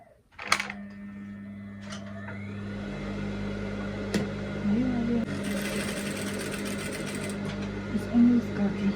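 A home sewing machine runs steadily, its close whirring drone holding on while the needle stitches. Brief clicks and handling noises break in at the start, and fabric rustles partway through.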